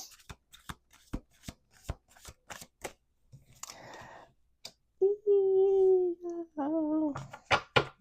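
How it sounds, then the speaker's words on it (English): Playing cards are riffled in a quick series of crisp snaps, then a voice hums and babbles nearby as the shuffling trails off. "We're going to do 2 more shuffles."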